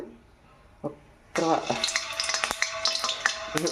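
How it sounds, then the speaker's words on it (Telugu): Leftover idli batter dropped into hot oil for street-style punugulu, setting off a sudden loud sizzle that keeps crackling with sharp pops after a brief quiet start. "ఆయిల్ వేడెక్కిందో లేదో ఒకసారి చూసుకుందాం"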